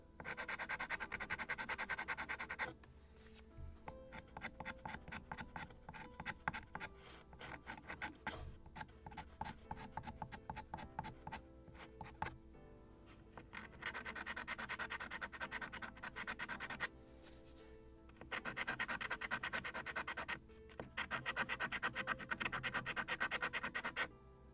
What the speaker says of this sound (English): Scrape it off also.